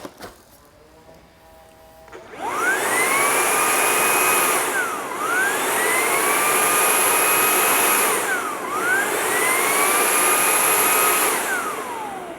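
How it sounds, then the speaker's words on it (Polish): A Jigoo V700 cordless vacuum's docking station empties the dust bin: after a quiet start, a loud whining suction motor kicks in and runs in three long surging cycles, each pitch sweep dipping briefly before ramping up again. "Zaczyna wciągać do środka wszystko to, co znajduje się w tym pojemniku."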